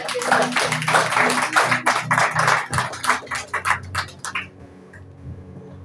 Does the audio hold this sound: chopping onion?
no